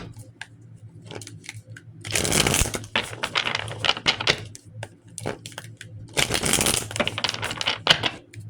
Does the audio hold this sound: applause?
no